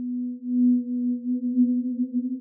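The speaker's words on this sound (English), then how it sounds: "we're hearing multiple sine waves out of tune from each other." A steady, sustained synth tone from Ableton Live 12's Meld synth, made of several slightly detuned sine waves, gently wavering and beating against each other, with no other sounds.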